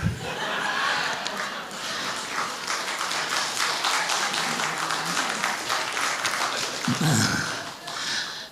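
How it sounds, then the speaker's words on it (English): Audience at a poetry night at the Ave in Auburn clapping steadily for several seconds, a dense spread of hand claps that thins near the end, with a few murmurs underneath. "You can applaud if you like, or you can just sit there."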